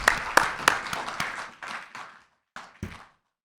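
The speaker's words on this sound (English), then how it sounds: "let's give Mark a round of applause" A short burst of light clapping from a small group, sharp claps at first, then tapering off into a few scattered claps.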